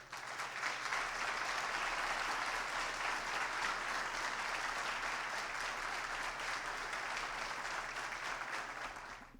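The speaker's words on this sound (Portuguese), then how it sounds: "Espero e peço uma salva de palmas a ela" An audience applauds a female deputy in a legislative session, a steady, even wash of clapping from many hands lasting several seconds before fading slightly at the end, with no voices over it.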